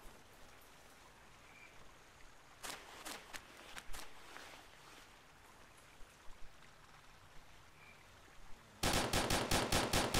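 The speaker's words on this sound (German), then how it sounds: "Eindeutig feindliche Schüsse jetzt." Enemy gunfire during a military patrol in Sangin, Afghanistan: scattered distant shots crackle irregularly over a quiet background, then a loud rapid automatic burst of evenly spaced rounds closes the sequence.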